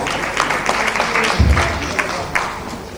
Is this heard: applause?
yes